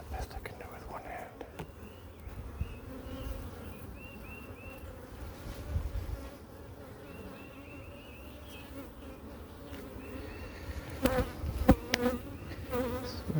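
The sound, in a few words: honeybees buzzing around a beehive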